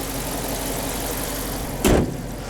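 A 2018 Dodge Challenger Shaker with the 5.7 engine and manual gearbox, apparently stock exhaust, runs with a steady low rumble and then a brief louder thump near the end, heard close up with no talking.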